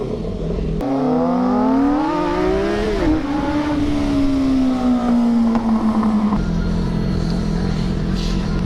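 Car engine revving during a drive in Varna: a loud, close engine note that climbs and holds, then slowly drops in pitch over several seconds before settling into a rougher steady drone.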